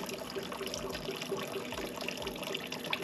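Water trickling from a cow-mouth spout at a temple stop on a trip through Uttarakhand, a soft continuous splashing stream with no talk over it.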